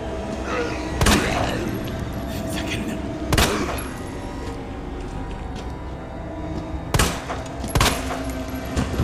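Several sharp, loud gunshots at a zombie in Resident Evil 2 Remake crack out in spaced pairs and singles over a low ambient game backdrop, each with a short echoing tail.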